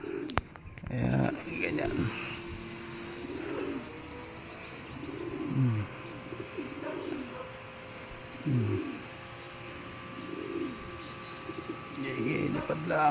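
Pigeons coo in soft, repeated rounded phrases every couple of seconds, close by, with a person talking intermittently over them.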